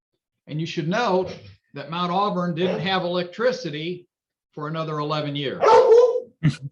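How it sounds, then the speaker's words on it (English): A dog barks once or twice near the end, a sharp burst nearby that rises over a man's steady speech. "That's my dog, sorry."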